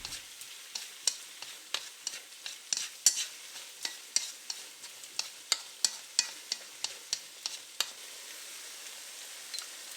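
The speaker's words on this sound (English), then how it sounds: "The heat can be returned again to high and continue to stir the contents." Tomatoes and eggs stir-fried over high heat, a spatula scraping and clacking in a wok about twenty times in an irregular rhythm over a soft, faint sizzle, with no talking.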